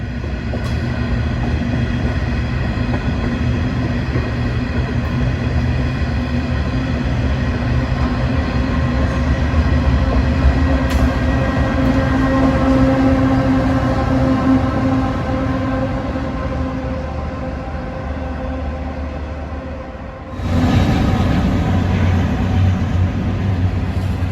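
A Pacific National 502 class freight locomotive with a turbocharged four-stroke GE V16 diesel engine rumbles steadily past at close range for the whole stretch, with a sharp brighter surge of rail and wheel noise near the end.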